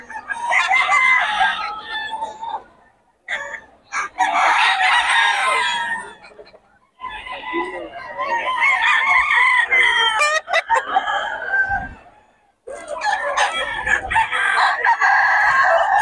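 Fighting roosters at a gamefowl market in Bocaue crow loudly and repeatedly at close range, with clucking between the crows and short quiet gaps.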